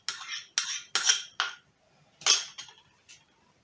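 A utensil clinks and scrapes against a bowl while stirring salt, sugar and dry yeast, in quick bursts, a few strokes, a pause, then more, close up and alone.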